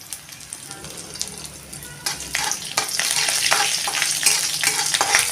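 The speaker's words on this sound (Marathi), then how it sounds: "त्यात थोडा वेळ परतून घ्या." Chopped ginger and garlic cloves sauté in a pan, a sizzle that grows louder after a couple of seconds, with scraping stirs and clicks over the steady frying.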